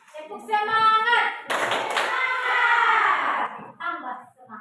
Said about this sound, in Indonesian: Oke, tepuk semangat mulai.